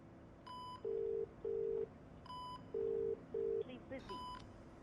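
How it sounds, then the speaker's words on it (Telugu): A ringing tone on a phone call sounds in two pairs of steady beeps with short gaps between them. It is quiet and thin over a low background hum, with a brief tone glitch at the end. "ఒకసారి ఫోన్ ట్రై చేయి."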